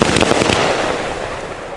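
Dominator Touch of Gold 119-shot firework cake firing a loud, dense rapid barrage of crackling bursts that runs continuously from start to finish without pause.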